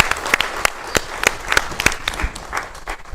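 Scattered hand claps from a small audience at a political rally in Siparia, uneven and sparse, with crisp individual slaps standing out over a thin, fading patter.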